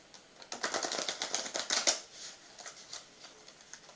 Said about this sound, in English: You can give it some riffle shuffles.